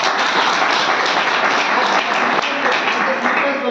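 An audience at a business training seminar claps in a steady, dense round that stays fairly loud throughout, with a voice faintly present beneath the clapping.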